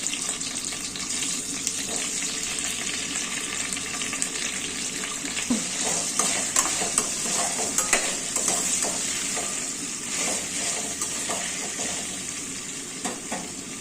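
Large onions fry in a pan for a Rayalaseema-style buttermilk curry, giving a steady, close sizzle with scattered clinks and scrapes of stirring throughout, and no voices.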